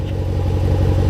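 A Jeep Wrangler with an aftermarket exhaust and a small muffler, close to straight pipe, idles with a deep, loud, steady rumble and a throbbing low pulse, heard from a distance behind the vehicle.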